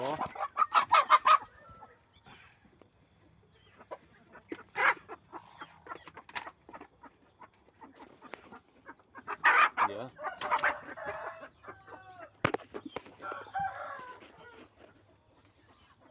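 Chickens cluck and squawk in bursts as a hen chases chicks around a coop, loud flurries of clucking and flapping separated by quieter stretches, with occasional faint crowing-like calls.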